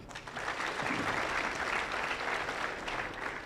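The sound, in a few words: audience applause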